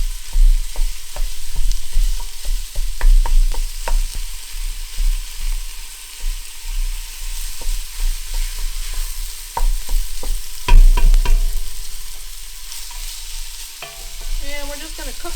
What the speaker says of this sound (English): While we stir it around with the onions.